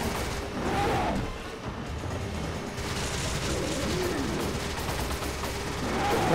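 Gunfire rattles on and off in Resident Evil 5, with loud bursts and heavy booms over a rumbling game background, the shots somewhat blurred together.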